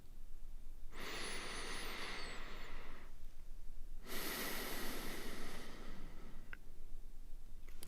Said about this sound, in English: Begin breathing deeply through your nose.